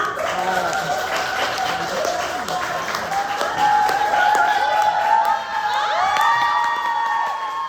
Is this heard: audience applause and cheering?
yes